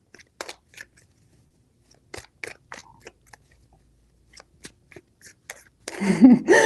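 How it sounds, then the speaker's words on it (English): A deck of tarot cards is shuffled by hand: sparse, sharp taps and flicks come first, then a denser riffling burst near the end. "3 shuffles."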